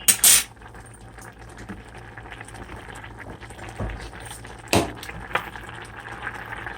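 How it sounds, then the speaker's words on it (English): Ramen noodles with their flavor packet boiling in a pot, a low bubbling simmer punctuated by sharp metallic clinks and clatters of a utensil against the pot. "Just let them boil until they get ready."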